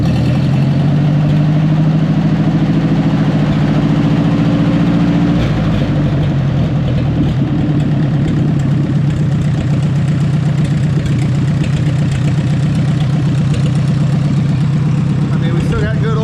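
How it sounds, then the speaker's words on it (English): A $200 Ford tractor engine idles with a slight exhaust leak, a steady loud low rumble that changes character partway through and runs unbroken throughout. "There's definitely a little bit of an exhaust leak too, so that's also making noise."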